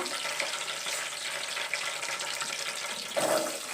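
Fennel seeds sizzling in hot oil for egg biryani, a soft, continuous crackling fry with a few slightly louder pops, fairly quiet and heard alone.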